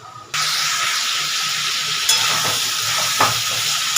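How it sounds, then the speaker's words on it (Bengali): Whole cashews go into a pot of chicken curry and cook, giving a steady close sizzling, bubbling hiss that starts abruptly after a short pause, with a couple of faint clinks and no talking. "এবার এগুলো আমি একবার বয়ল করে নেব তাহলে চলুন এটা একটুখানি আগে ফুটে যাক"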